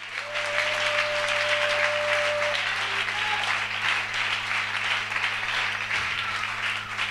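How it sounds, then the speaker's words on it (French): A church congregation applauds loudly and continuously during a Wednesday worship service, a dense steady wash of clapping with some cheering, with a sustained hum underneath throughout. "Est-ce qu'on peut acclamer très fort?"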